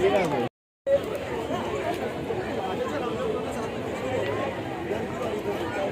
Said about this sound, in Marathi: लास्ट डे आहे सो खूप जास्त गर्दी आहे